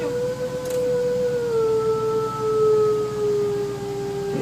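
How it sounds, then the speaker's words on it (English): Wolves and singing dogs at a zoo, some down in a canyon, howl together in a sustained chorus, with long steady tones that slowly fall in pitch and overlap, loud and continuous with no talk. "The wolves do that, and then the singing dogs down in the canyon do that, and they get this chorus going on back and forth."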